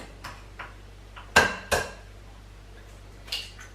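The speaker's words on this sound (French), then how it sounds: "Je casse les œufs." Eggs are cracked against a bowl for a pumpkin tart: a few light taps followed by two sharp, close knocks, then softer clicks, in an otherwise quiet kitchen.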